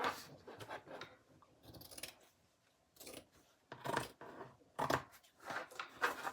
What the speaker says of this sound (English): Get my scissors, and see this fabric, that's the over part. We're just going to cut this top part off.